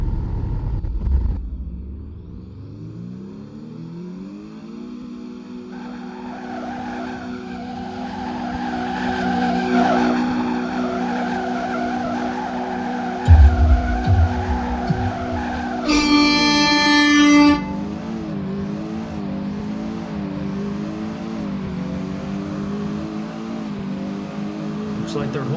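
A Ford Falcon Stallion EcoBoost car in the Roblox game Greenville revs in sport mode with traction control off, a droning engine note climbing and holding, with a short squealing burst midway and a continuous rumble throughout.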